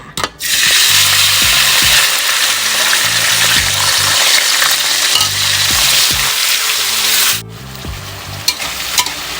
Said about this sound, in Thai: น้ำมันที่เหลือนี่นะคะรวนหมูที่เราหมักไว้ลงไปค่ะ